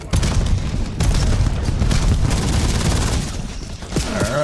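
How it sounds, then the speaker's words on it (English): Cluster grenade blasts in a shooter video game crackle out as a dense, rapid string of booms and gunfire-like pops, loud and sustained for several seconds with sharp individual bursts throughout. "Cluster grenade sent!"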